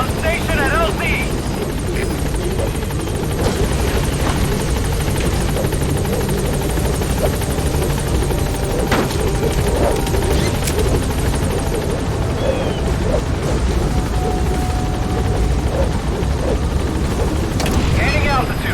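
In the video game Metal Gear Solid 5, the Pequod helicopter arrives with a loud, continuous rotor thrum and engine whine, and radio voices speak over it for most of the stretch.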